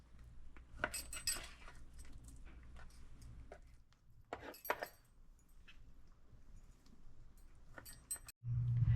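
A knife cuts pork steaks into chunks on a board, with clinking knocks and cutting sounds in irregular bursts, fairly close and moderately quiet.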